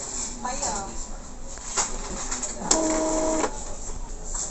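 An Epson L3210 inkjet printer runs a head cleaning cycle, giving mechanical whirring and clicking with a short steady motor tone partway through, heard close up.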